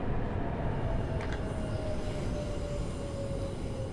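A train pulls into Barking station in Train Sim World 4, with a steady low rumble of wheels and running gear and a sustained whining tone that slowly drops in pitch as it slows.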